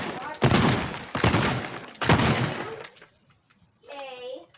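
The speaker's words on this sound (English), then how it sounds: "Shotgun." A shotgun fires in the destruction video game Teardown, heard as loud, dense blasts in two long bursts, then a short pause and a faint electronic warble at the end.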